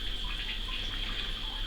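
Steady water flow hissing through a 4-stage 50 GPD reverse osmosis system with DI stage as the unit is switched on, a constant close rushing with a low hum beneath and no pauses.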